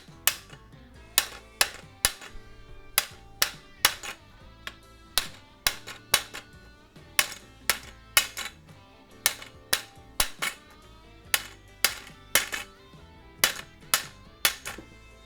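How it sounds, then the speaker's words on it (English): A hammer taps a caster and leveling foot into the pole of a ULINE NSF shelf in repeated sharp metallic whacks, often in quick pairs or triplets, loud and close with short gaps between strikes and no talking. "You can tap these in with a hammer. And once you get that sucker started, give it a couple whacks"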